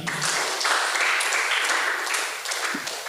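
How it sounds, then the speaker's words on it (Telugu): A church congregation claps during a Sunday sermon, a dense, loud and even burst of applause lasting a few seconds. "గట్టిగా చప్పట్లు కొడదాం ఒకసారి"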